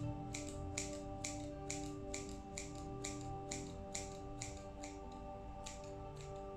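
A run of crisp, evenly spaced scissor snips cutting ribbon, about a dozen cuts close to the microphone over a steady tonal hum, with no talking.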